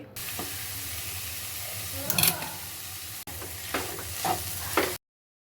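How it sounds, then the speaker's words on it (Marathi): A mixture stirred in a hot pan for a homemade boiled breakfast snack, with a steady sizzle and steam hiss under scraping strokes of the spoon, which come in uneven bursts. "मिश्रण व्यवस्थित परत ढवळायचं आहे"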